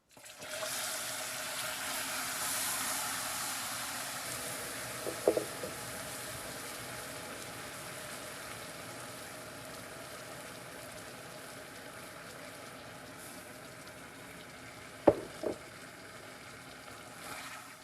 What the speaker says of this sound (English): here goes the first cup of water